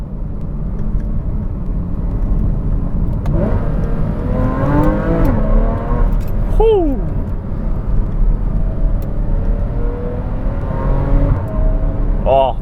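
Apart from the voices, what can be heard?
Porsche 981 Cayman S with F1 headers revving above 4000 rpm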